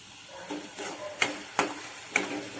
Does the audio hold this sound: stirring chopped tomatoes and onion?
yes